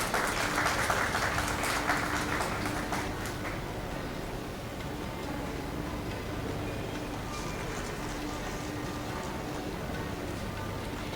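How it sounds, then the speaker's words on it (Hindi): Audience at a university convocation ceremony claps for a graduate, a loud burst of applause for the first few seconds that fades into a faint, scattered patter over steady hall hum. "जोरदार तालियां हो जाएं एक बार।"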